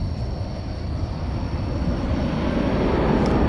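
A Cargolux cargo jet moving on the ground at DFW Airport at night, a steady broad engine rumble and roar that slowly swells louder, heard from a distance with no talk.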